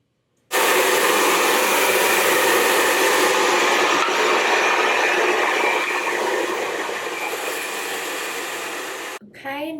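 A hair dryer blows steadily at close range while a section of curly hair is dried, a loud continuous whoosh that stops abruptly near the end.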